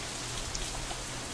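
Steady rain falling in a quiet scene, a dense even hiss of drops with faint scattered patters and no voices.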